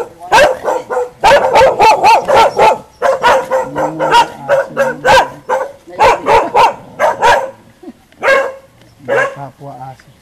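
Dogs bark in repeated close, loud bursts of several barks each, with short pauses and a whimper between, while people talk nearby.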